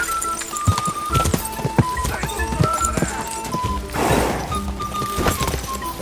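A horse's hooves clip-clop steadily and close in Kingdom Come: Deliverance 2, a quick rhythmic run of sharp hoofbeats over faint tonal game sounds, with a brief rushing swell partway through.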